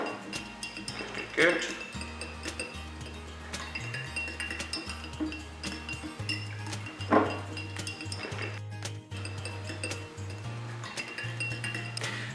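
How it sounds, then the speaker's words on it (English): Glitter is stirred in a glass snow globe jar, giving repeated light clinks and taps of a utensil against the glass under background music, with a brief spoken word. "And I'm going to give it a little stir."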